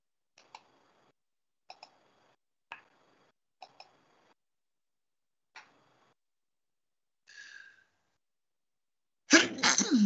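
A person sneezes once, loud and close, near the end, after a series of faint, sparse clicks and taps in an otherwise quiet room.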